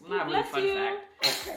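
A man sneezes once, a sudden, loud burst coming near the end after steady conversation, with other voices talking before it.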